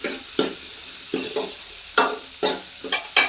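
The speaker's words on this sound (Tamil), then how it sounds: "இஞ்சி பூண்டு ரெண்டுத்தையும் போட்டு நல்லா வதக்கிக்கலாம்." Ginger and garlic sautéing in a pan for a country-chicken curry, with a series of stirring scrapes and bursts of sizzle coming in uneven pulses, fairly close and with no talking.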